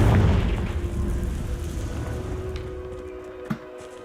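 A Confringo blasting spell goes off in the Hogwarts Legacy video game, a loud boom at the start that fades into a long, rumbling decay, ending with one small sharp pop.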